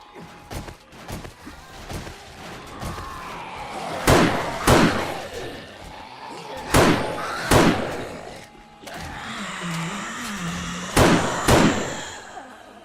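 Zombies in the game 7 Days to Die batter defensive spikes with a run of heavy slams and thuds, some in quick pairs, with lower rumbling noise between the blows.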